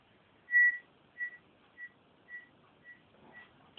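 A FAU-1 metal detector sounds its signal over a 1974 one-stotinka coin at about 40 cm: a clear, steady whistle-like beep followed by four shorter, weaker repeats at even intervals, fading out as a voice begins at the end.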